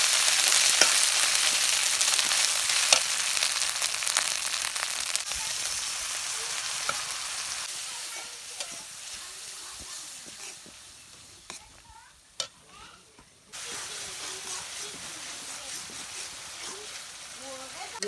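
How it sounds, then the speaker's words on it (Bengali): Onions, chilies, ginger and garlic fry in a pan over a village cooking fire, giving a steady close sizzle with stirring scrapes, softening midway and then swelling back up near the end. "পেঁয়াজগুলা এখন ভাজা ভাজা করবো।"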